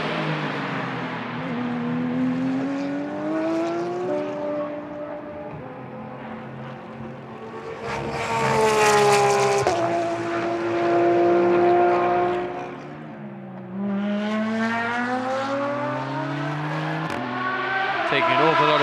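The number 54 Attempto Porsche race car laps a circuit in Moscow during Blancpain Sprint Series free practice, its engine note rising and falling through gear changes and climbing to a loud peak mid-pass, while a commentator talks over it.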